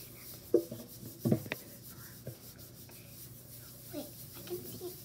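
Paper pressed and rubbed by hand onto a wet styrofoam printing plate, soft scattered scuffs and a few sharper rubbing strokes, close and quiet, with faint voices in the background.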